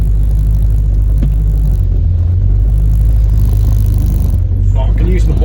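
A small 40-horsepower car drives along with a steady low engine rumble and road noise throughout, plus faint rattles; voices are audible over it in places.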